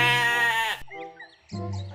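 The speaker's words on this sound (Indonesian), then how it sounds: "Enggak, Dil, gua mau angon kambing aja." A goat on a farm gives two close, loud bleats, a long wavering cry followed after a short pause by a second, shorter one.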